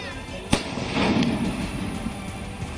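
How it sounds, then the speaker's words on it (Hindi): Firecrackers set off by villagers near Bahraich to scare away man-eating wolves, one sharp loud bang followed by crackling bursts and a rumbling wash of noise, with faint talk underneath. "दिवाली या किसी जश्न में फोड़े जाने वाले पटाखे अब दहशत दूर करने में काम आ रहे हैं।"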